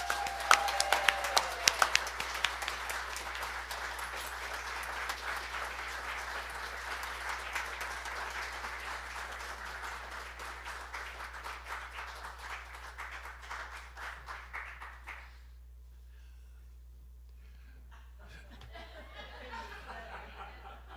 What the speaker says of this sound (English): and I'd like you to give a warm round of applause for Neale Donald Walsch.